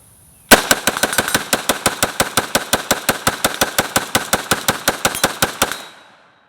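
Rapid, evenly spaced gunfire from a PSAK GF3 12.5-inch pistol fires loud, sharp shots in one sustained burst of roughly thirty rounds over about five seconds, then stops abruptly.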